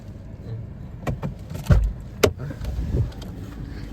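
A car with a low engine rumble throughout, broken by a few sharp clicks and thumps near the middle that may come from doors or handling inside the vehicle, fairly close.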